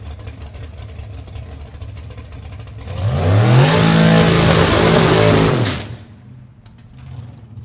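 A drag race car launches down the strip at New England Dragway during an NHRA event, its engine surging from a rumble into a loud, rising roar that holds for a few seconds and then fades into background idle.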